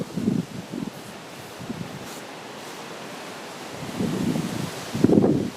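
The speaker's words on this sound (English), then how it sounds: "Horrible blowy day, I don't know how much you can hear of this." Gusty wind buffets the microphone in an apple orchard on a blustery day, low rumbling bursts rising and fading over a soft rushing background.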